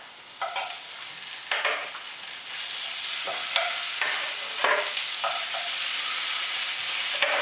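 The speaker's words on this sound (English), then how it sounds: "I'm going to take the chicken that we browned and I'm going to slide it back into the pan." Browned chicken is slid back into a deep frying pan with vegetables, bringing a steady frying sizzle with a few louder scraping bursts from stirring, close and continuous with no talking.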